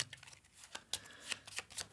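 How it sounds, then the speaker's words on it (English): A deck of game cards for the Flamme Rouge board game with Peloton expansion being shuffled close up, quiet riffling bursts and soft card snaps at an uneven pace, no talking. "Gotta shuffle this little lot up."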